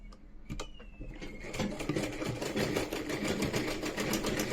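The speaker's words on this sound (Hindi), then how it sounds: "यहाँ पे भी हमें डबल सिलाई लगानी है" A sewing machine stitches a double seam on trousers, running in a rapid steady chatter that grows louder and denser after a few start-stop bursts, close up with no talk.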